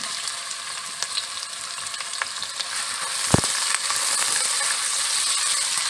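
Onions hiss and crackle in hot oil for a moong dal bhaap badi salan, a loud, steady frying sound with light stirring taps and one sharp clack of the utensil midway.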